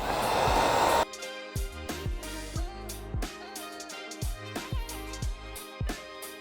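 A heat gun blows hot air onto vinyl wrap film on the grille of a 2018–2021 Ford Expedition Max. It gives a loud, steady rushing roar for about a second, then cuts off and music plays.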